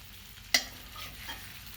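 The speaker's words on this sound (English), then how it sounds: "These potatoes have been frying up on the stove." Potatoes fry in a cast iron pan on a woodstove, a soft steady sizzle with one sharp scraping stir-clatter near the start and a fainter stir later.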